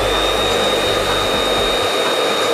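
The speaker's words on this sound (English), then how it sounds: "The air from the hairdryer flows around the outside of the ball" A hair dryer blows a steady, loud, unbroken stream of air to float a ball in a home science experiment, with a constant whine running alone throughout.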